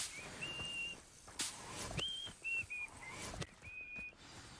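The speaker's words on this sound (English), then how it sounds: "Goblins whistle." Goblins in the video game Hogwarts Legacy whistle in a series of short, clear, high tones, some sliding slightly, spaced irregularly over a soft ambient game background with occasional louder thumps.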